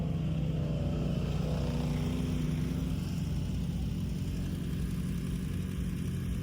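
Side-by-side UTV engine droning steadily while towing a stuck vehicle, a low continuous rumble with a light rise in throttle, heard outdoors at moderate level with no voices.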